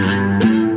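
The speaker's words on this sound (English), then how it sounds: "So there's still kind of a chorusy tone to it." Electric guitar through a Quad Cortex jack preamp capture at low gain, giving a crunchy tone with chorus, pitch shift, reverb and delay: a held chord changes partway through, ringing loud and steady on its own.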